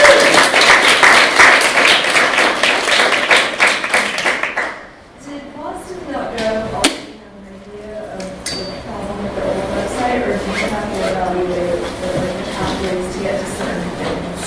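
Audience applause after a talk on inclusive design, loud dense clapping for several seconds that fades out, then a speaker begins talking over a quieter background.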